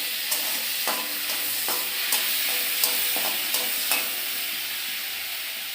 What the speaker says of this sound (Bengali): এই চিংড়ি মাছটা ভাজা ভাজা হয়ে গেল